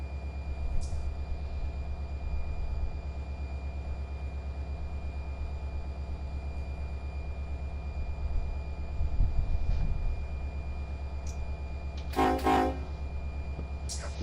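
A freight train in the Run 8 simulator begins rolling down a grade on dynamic braking, a steady low engine drone with a continuous hum, a few brief high squeals and a short burst of noise near the end.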